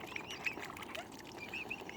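Ducks quacking beside a pond, a few short nasal calls scattered across a couple of seconds, faint and fairly close, with no voices.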